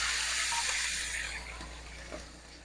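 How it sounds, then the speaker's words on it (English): Quiet, steady hiss of water sizzling in a hot pan, a soft crackling wash that slowly fades. "You hear that sizzle?"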